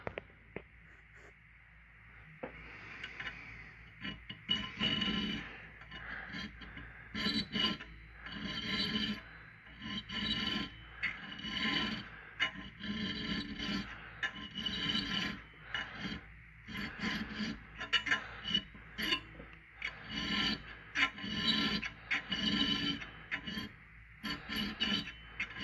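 Square filing of a full chisel saw chain for racing saws, a steady rasping file stroke repeated in quick rhythmic passes, close and fairly faint, with brief pauses between strokes and no talk.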